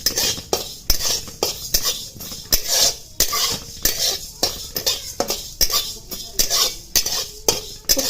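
Moong dal being dry-roasted and stirred in a pan, with a spoon scraping the metal in a steady, brisk rhythm of repeated strokes, close and fairly loud, with no talking.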